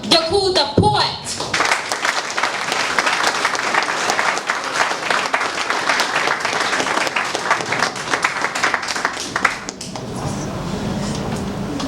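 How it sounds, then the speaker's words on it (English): Loud audience applause welcoming a poet onstage at a book launch, a dense sustained round of clapping after a brief opening, tapering off near the end. "So with a thunderous round of applause, can we welcome Deku The Poet?"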